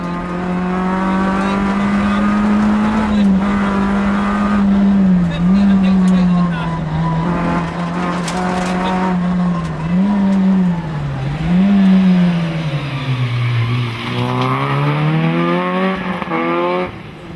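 Peugeot 205 rally car driven by John McCrone on a stage of the 2008 Tour of Mull Rally, its engine loud and close, revving and dropping in pitch through gear changes and corners for the whole stretch.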